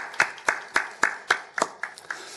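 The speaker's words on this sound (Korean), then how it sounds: "하나님께 감사와 영광의 박수를 올려드리겠습니다." A church congregation claims a slow, steady beat of handclaps, about nine distinct claps spaced evenly, moderately close and clear with no other sound.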